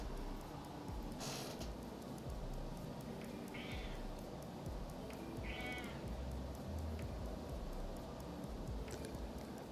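A cat meows twice, with short, faint calls a couple of seconds apart over a steady hiss of background noise, and nobody talks.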